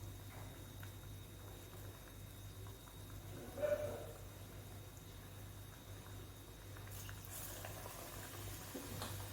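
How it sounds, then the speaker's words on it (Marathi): Vada pav vadas, potato dumplings dipped in batter, deep-fry in hot oil with a faint, steady bubbling that runs for several seconds, quiet throughout, with one brief louder burst partway through. "आता ह्याला व्यवस्थित लालसर होईपर्यंत तळून घ्यायचं"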